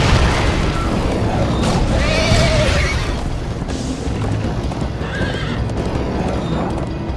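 A horse in a Minecraft Story Mode video game gallops with rapid, continuous hoofbeats and lets out loud neighs, all under a dense, rumbling wash of background noise.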